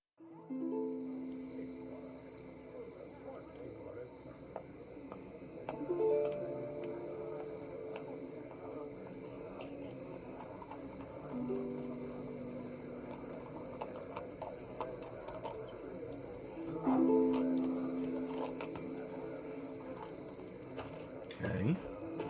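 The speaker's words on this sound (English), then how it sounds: "Crickets, it's nighttime." Crickets chirp steadily through a night scene, a high continuous trill that holds the whole time, with an owl call and other soft ambient tones underneath.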